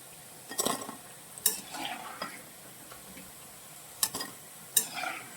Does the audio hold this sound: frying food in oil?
yes